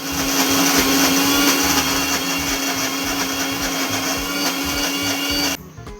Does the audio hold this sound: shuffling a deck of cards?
no